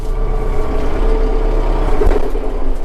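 A Kubota M4-073 tractor engine idles steadily at close range, a low constant rumble with a slight lift in load partway through as the clutch is released quickly.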